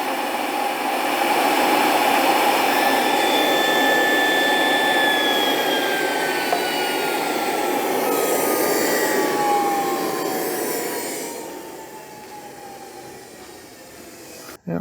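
Dumore toolpost grinder spinning at full speed, giving a loud, steady high-pitched whine with shifting tones that holds for several seconds, then drops off as it winds down near the end.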